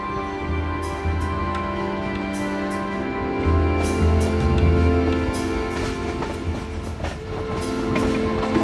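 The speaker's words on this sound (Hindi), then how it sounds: "अब जंड पैसेंजर पहुंच रही है अटक रेलवे जंक्शन पर।" The Jand passenger train pulls into Attock railway junction, a loud close rumble of wheels and carriages with rhythmic clatter, metallic squeals and a deep engine drone rising and falling throughout.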